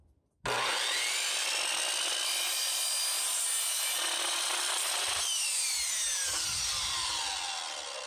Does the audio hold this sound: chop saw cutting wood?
yes